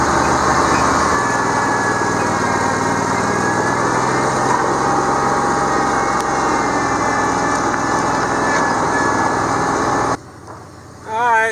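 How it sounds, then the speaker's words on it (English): A lawnmower engine runs steadily and loud while cutting wet grass and weeds, a constant close drone that cuts out near the end. "I really don't like cutting grass with this lawnmower"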